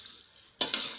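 Semiya upma being roasted and stirred in a pan, a soft sizzle that jumps up after a quiet half second, with scraping stirs close by and no talking.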